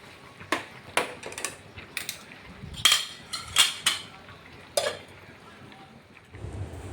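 Spoon clanks against a pot while ivy gourd vegetable is mixed, a string of sharp metallic taps and scrapes at an uneven pace, close and fairly quiet, ending with a lid set down and a soft steam hiss.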